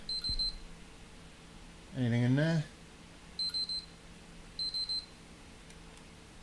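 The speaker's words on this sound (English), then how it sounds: "Okay, it's just beeping." A faulty PS3 console beeps after its disc drive is ejected: short bursts of high, clipped electronic beeps repeating at intervals, with a brief spoken question between them in a quiet room.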